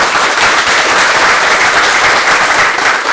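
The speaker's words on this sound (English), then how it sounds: "Give her a little round of applause." An audience at a pressure point martial arts dojo demonstration breaks into a steady burst of applause, a dense, even wash of clapping that holds loud and unbroken for about three seconds with no talk over it.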